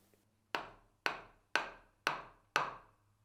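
A wooden mallet strikes a chisel handle to pare a small piece from timber, five firm, evenly spaced knocks, close and crisp, each ringing out briefly before the next, with no talking.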